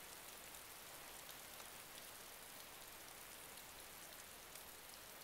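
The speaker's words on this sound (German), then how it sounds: "Oh, ist der Regen laut." Heavy, loud rainfall in the survival game DayZ, a dense steady hiss of drops on surfaces that fills the whole stretch evenly, with no voices.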